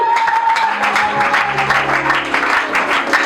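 A congregation at a Kinyarwanda-language Christian church service applauds loudly and steadily for God at the pastor's call, dense clapping filling the room throughout with no pause.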